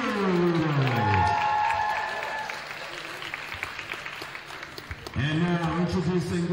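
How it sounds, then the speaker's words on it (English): Gym crowd applauding the Henry Hudson cheerleaders at a high school varsity basketball game, clapping and cheering beneath a loud amplified announcer who speaks at the start and again near the end. "round of applause for our electrifying Henry Hudson Air Boy cheerleaders"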